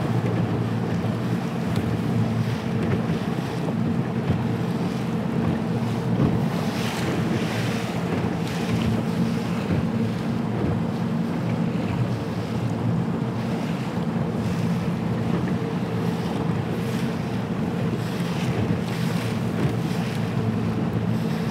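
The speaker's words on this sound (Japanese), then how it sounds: "さらにそのまま一文字と平行にボート進めていきます。" Small fishing boat running along a breakwater on Lake Biwa's north basin, a steady close rumble of motor and wind buffeting with water rushing against the hull, continuous throughout with no talking.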